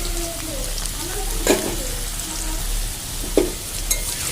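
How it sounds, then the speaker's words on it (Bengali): Pieces of gathi kochu taro frying in oil in a pan for a vegetarian dish, a soft steady sizzle with a couple of sharp stirring scrapes, no talk. "এটাকে কিন্তু সুন্দর করে ভেজে নেব।"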